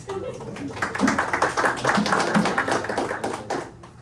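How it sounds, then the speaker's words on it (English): Classroom applause for interpreters: a small group claps in a steady, moderately close patter of hand claps lasting a few seconds before tapering off. "Can we get a round of applause for our interpreters"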